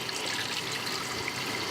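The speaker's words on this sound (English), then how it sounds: "And add some more cold water to this." Cold water pours steadily from a kitchen tap into a stainless steel bowl of eggs, a continuous close hiss and splash with no pauses.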